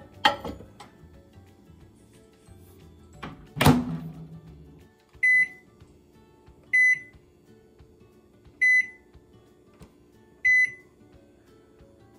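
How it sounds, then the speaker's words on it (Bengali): A 900 watt microwave oven hums steadily as it heats eggs, with a single sharp clunk partway through and then four short, evenly spaced beeps. "এবার মাইক্রো ওভেনে আমি দিচ্ছি।"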